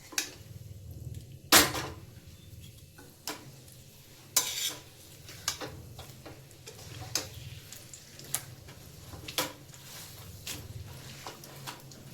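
Warm dates (khajur) for a dry fruit roll being stirred in a pan: repeated sharp scrapes and taps of a spoon against the metal pan at an irregular pace, close up over a faint low sizzle, with no talk.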